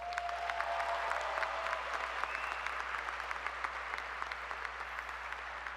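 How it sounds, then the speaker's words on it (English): A high school graduation audience applauds the student speakers, a sustained, fairly distant patter of many hands over a low electrical hum, with a faint tone drifting through early on. "Give them a round of applause."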